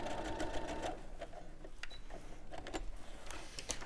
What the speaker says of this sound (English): That sewing machine, by the way, what you stole from your mum, is the Brother FS250.